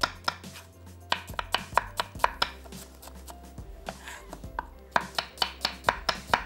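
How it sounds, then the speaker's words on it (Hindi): A knife slices two medium onions into thin slices on a cutting board, a close, crisp series of rapid regular chops with a brief pause midway before the steady rhythm resumes. "सबसे पहले जनाब प्याज 2 अदद दरमियानी, और इसको हमने स्लाइस कर लेना है, थिन स्लाइसेस।"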